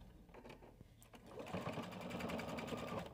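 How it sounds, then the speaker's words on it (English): A sewing machine stitches a fabric side seam, with a few quiet handling taps, then the motor starting about halfway through into a steady, rapid mechanical whirring hum that continues to the end. "we need to step to our machine and we're going to sew the right side of our project completely together"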